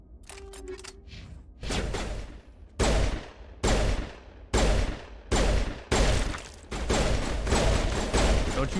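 An assault rifle fires in the video game Mass Effect: several loud, close bursts come in a regular rhythm, each a sharp blast that dies away, ending in longer rapid fire.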